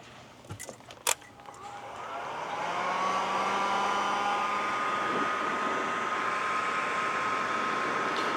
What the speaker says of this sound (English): I'm gonna warm all that with the heat gun